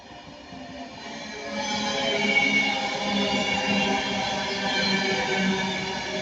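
Train unit 39136 passes close by, a steady rolling rumble that swells after the first couple of seconds and holds, broad and continuous, with no voices.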